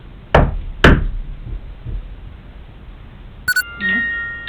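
Two distinct knocks inside a haunted hotel, sharp and fairly loud about half a second apart, followed by faint quiet taps, a brief electronic chirp and a soft hum.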